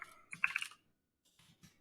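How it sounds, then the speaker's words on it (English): Quick bursts of clicky mechanical keystrokes, close and quiet, with a pause in the middle before a few more keys are tapped. "The sound of my mechanical keyboard."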